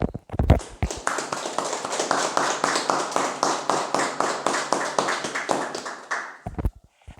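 A church congregation clapping for Jesus in rhythmic unison, steady beats repeating for several seconds before stopping abruptly near the end.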